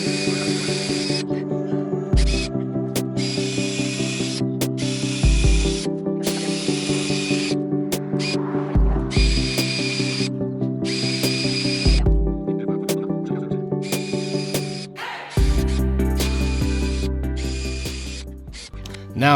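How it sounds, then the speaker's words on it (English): Power drill boring holes through the steel roof of a 2022 Ford Transit Crew Van, repeated sustained whirring bursts separated by short pauses, loud and close, with no talk. "Okay, so we're gonna drill the holes."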